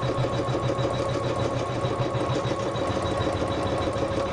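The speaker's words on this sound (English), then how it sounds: "press start, it's gonna go and sew that placement line for the dress" An embroidery sewing machine stitches a placement line for a dress, a steady, loud mechanical whirring hum with a fast, even needle rhythm running throughout without pause.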